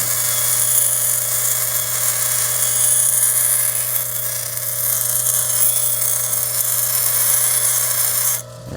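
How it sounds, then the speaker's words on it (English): Orange quartz landscape stone being ground against a spinning shaping wheel, a continuous high buzzing whine with gritty rasping texture and a steady low hum, loud and close throughout, ending abruptly. "I can actually hear the pieces chipping off."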